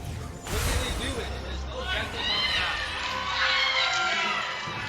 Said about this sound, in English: And the crowd goes wild for it.